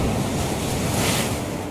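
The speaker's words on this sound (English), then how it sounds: "The waves come splashing over, and they bring with it a lot of debris" Storm waves crash and splash over a seawall in a continuous loud roaring wash of surf, with wind rumbling into the microphone and no voices.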